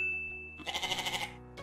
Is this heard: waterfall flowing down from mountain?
no